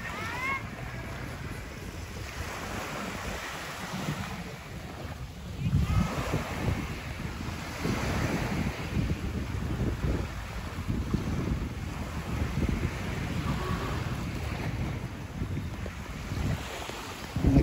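Caribbean sea at a beach in Guayanilla, Puerto Rico, with wind buffeting the microphone and waves washing in, a continuous rough rumble; someone talks at times over it.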